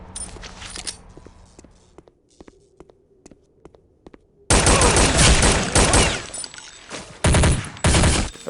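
Gunfire from the Counter-Strike: Condition Zero Deleted Scenes video game: a few sharp, spaced shots give way to a loud, dense burst of rapid firing, with faint metallic casing clinks in between.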